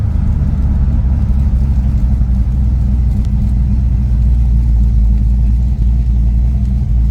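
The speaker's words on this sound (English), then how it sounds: "We're pulling into John's." A Ford Thunderbird with a 460 engine drives along, its engine a loud, close, steady low rumble with slight swells of revving and no talking over it.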